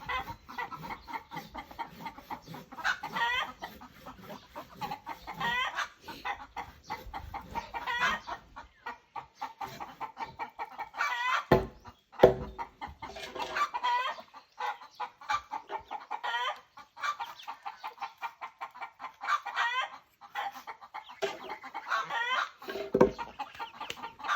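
Chickens in a coop cluck and squawk repeatedly in a busy, close, irregular chorus, with brief louder outbursts and short pauses and no talking.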